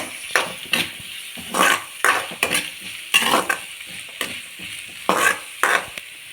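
Close-up sizzling of curry leaves and dried red chillies sautéing in a hot pan with repeated scraping stirs, bursts of crackle rising and falling in an uneven rhythm, no talking.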